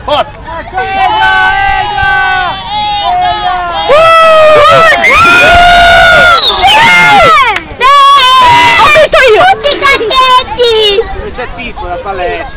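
A crowd at a beach football penalty shootout cheers and shouts loudly, with children's voices prominent in the excited hubbub and bursts of cheering rising and falling over several seconds.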